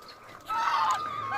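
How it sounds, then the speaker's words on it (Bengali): Chinese geese and larger geese at feeding time on a farm give a short, nasal honking call close by, rising after a quiet moment and lasting about a second. "আর এই যে আমাদের চীনা হাঁস, রাজহাঁস, এইমাত্র খাবার দিছি"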